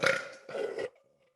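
A loud, close burp in two drawn-out pulses, the second slightly softer, cutting off into near silence, let out during a casual podcast recording.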